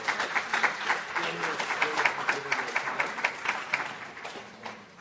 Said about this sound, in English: let's give a big round of applause for the 5 countries